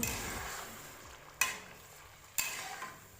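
Yogurt cooking into a beef karahi in a pan, a soft steady sizzle broken by two sharp stirring clacks of a spoon against the pot, close and without talk.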